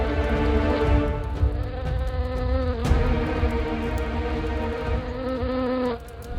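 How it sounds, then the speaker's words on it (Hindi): A swarm of flies drones steadily nearby, a continuous buzzing hum with slight wavering pitch, loud and unbroken for several seconds. "इन मक्खियों को यहां से भगा दो।"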